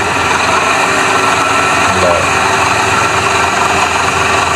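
A Massey Ferguson tractor hauls an 18-foot trolley, its engine a loud, steady droning rumble that holds an even level from start to finish with no pauses.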